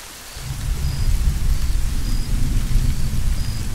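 Heavy rain pours steadily in a video game thunderstorm in Arma 3, with a deep low rumble of thunder rolling underneath, swelling after a quiet start and staying loud and close.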